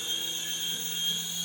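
A small Syma toy helicopter flying and coming in to land, its rotor and motor making a steady high-pitched whir that is clear and close, with no voices.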